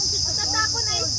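Crickets chirp as a steady high-pitched drone during an outdoor road trip stop in Fujairah, UAE, continuous and fairly loud, with muffled voices murmuring underneath.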